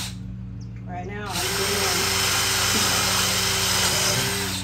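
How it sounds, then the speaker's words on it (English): A power drill bores through the corners of a wooden DIY behind-the-sofa table panel, whining loudly and steadily for several seconds after a brief quieter start, close up with no talk over it. "I'm drilling all of these corners."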